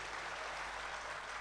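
An audience at a Hindi kavi sammelan poetry recital applauds: a brief, faint, even wash of many hands clapping, heard from a distance with no voices.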